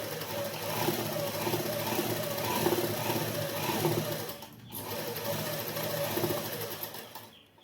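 A sewing machine stitches baby shorts, running loud and continuous with a steady whirring hum for several seconds, pausing briefly, then resuming before stopping.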